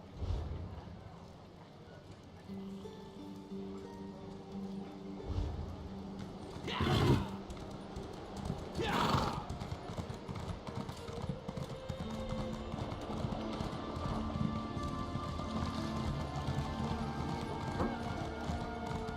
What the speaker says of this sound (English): Now I'm riding there and my horse is feeling a bit slow.